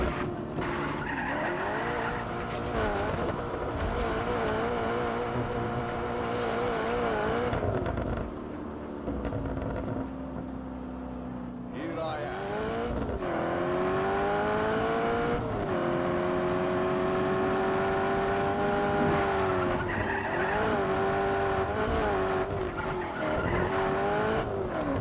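Car drifting in the action game Just Cause 3, a sustained engine roar with long squealing tires that rise and fall in pitch through the slides, loud and continuous for the whole stretch without speech.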